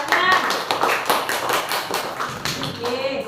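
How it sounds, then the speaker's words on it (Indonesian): Classroom of students clapping hands together, a loose burst of sharp individual claps close by, uneven in rhythm, with some voices mixed in. "Ibu kasih aplaus, tepuk tangan."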